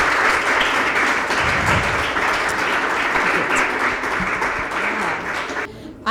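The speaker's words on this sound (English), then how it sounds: "please clap for her. Like a hearty clap." An audience gives a hearty, sustained round of applause as a speaker walks to the stage at a business talk, dense and steady before cutting off abruptly near the end.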